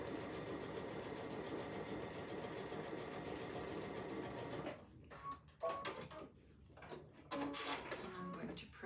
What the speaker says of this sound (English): And again, I'm starting to sew above my line.